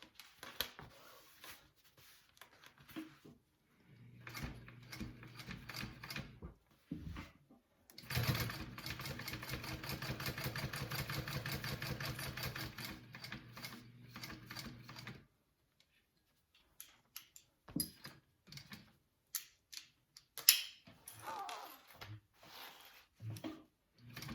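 Sewing machine fitted with a walking foot stitching vinyl for a wallet, a steady mid-level whir running for about seven seconds with a shorter burst before it and quiet handling clicks and shuffling around it.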